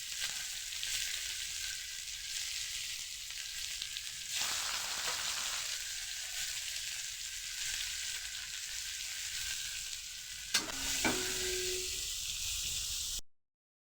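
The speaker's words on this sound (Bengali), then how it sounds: "একটু লাল লাল করে পেঁয়াজগুলো ভাজা করে নিচ্ছি" Onions sizzle in hot oil in a home kitchen pan, a steady bright hiss that dips briefly as they are stirred, with a couple of faint clinks near the end and no talking.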